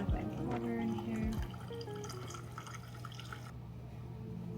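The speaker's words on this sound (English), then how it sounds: "Just gonna add my water in here." Water poured into a glass in a home kitchen, a continuous close splashing and trickling stream with a rising fill tone, steady throughout.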